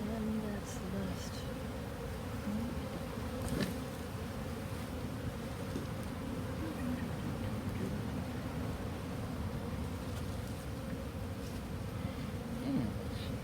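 A swarm of honeybees buzzes thickly around a colony being removed from a meter box, a dense, continuous droning hum close by that swells and fades slightly as individual bees pass near.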